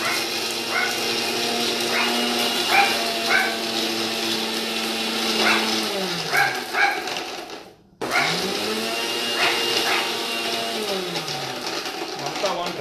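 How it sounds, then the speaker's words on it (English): A dog barks in short bursts over the loud steady whir of a kitchen grinder blending turmeric chutney, with a person talking nearby; the grinder briefly stops and restarts. "That is our dog barking."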